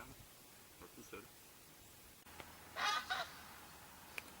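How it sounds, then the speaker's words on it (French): A small duck quacks twice in quick succession, fairly near and loud against quiet outdoor ambience on a trail run, with faint voices and rustle earlier. "Oh, un petit canard, juste pour redémarrer."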